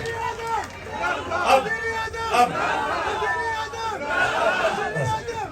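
A crowd of PTI workers at an outdoor iftar gathering in Zaman Park, chanting slogans together in loud, swelling rhythmic waves of massed voices, with general crowd noise and a speaker's voice mixed in.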